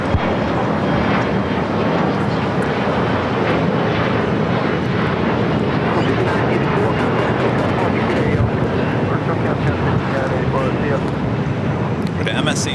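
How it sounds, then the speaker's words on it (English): A heavy MSC Air Cargo airplane takes off from the south side runway at LAX on a foggy day, its jet engines a loud, sustained rumbling roar with wind buffeting the microphone and a voice talking over it. "With MSC Air Cargo number 2 for takeoff here on the south side"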